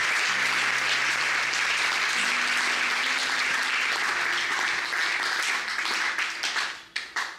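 A church congregation applauds loudly and continuously, a dense wash of many hands clapping with faint cheering and tones mixed in, fading near the end.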